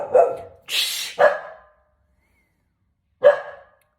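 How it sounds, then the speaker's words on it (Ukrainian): A dog barks indoors, three or four loud, close barks in a quick burst and then a single bark after a pause, heard on its own with no talk. "в мене тут собака гавкає"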